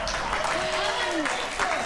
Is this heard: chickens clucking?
no